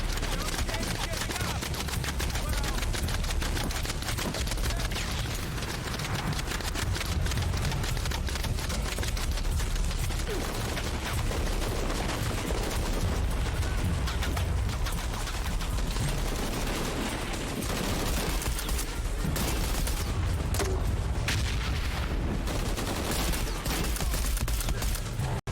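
Gunfire in the video game Shadow of the Tomb Raider keeps up as dense, continuous rapid bursts that sound loud and chaotic for the whole stretch.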